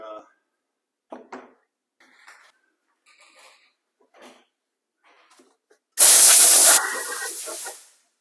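After a few soft, scattered clicks and rustles, a loud blast of compressed air hisses for about two seconds, then tapers off, as an old air filter from a 2012 Mercedes S550 is blown out with an air spray.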